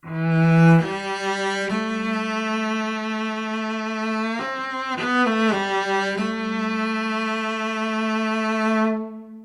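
A solo cello plays a slow, singing melody of sustained notes from the opening of a concerto, with smooth bow changes, clear and close, with no voices.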